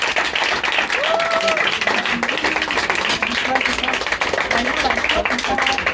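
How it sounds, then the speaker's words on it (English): Audience applause for school teachers, steady, dense clapping throughout with voices and calls rising over it. "Please, let's give our teachers a round of applause"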